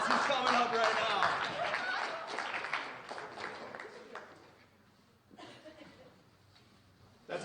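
An audience applauds as a volunteer comes up on stage at a live show: dense clapping with some laughter, loud at first beneath a voice, then thinning and fading while talk continues.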